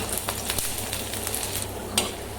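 Garlic and ginger sizzle in a little oil in a pan, a steady close frying hiss broken by light scrapes and taps of a stirring spoon.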